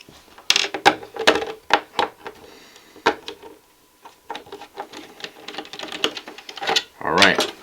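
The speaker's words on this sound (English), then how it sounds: "You just simply unscrew the screws, pop them out, and you'll be able to remove the bottom panel." Screws being undone and pulled from the bottom panel of an AceMagician retro-gaming mini PC, a run of small close metallic clicks, scrapes and ratcheting taps in uneven bursts, with a louder rattling handling noise near the end.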